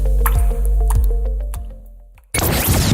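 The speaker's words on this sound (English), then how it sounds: "1 drip every second can add up to 5 gallons per day." Water drips from a leaky tap, about one drop per second, with a few distinct plinks over a steady musical tone before a sudden louder burst of sound cuts in.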